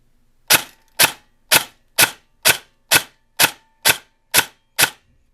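An M4 AEG airsoft gun fires ten single shots through a chronograph at an even pace of about two per second. Each shot is a sharp, loud snap with a short tail, and silence falls between them.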